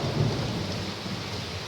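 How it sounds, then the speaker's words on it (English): A thunderstorm's steady rain pours throughout, with a low rolling rumble of thunder swelling near the start and fading back into the constant hiss of the downpour. "This is the second day this week that we've had thunder showers."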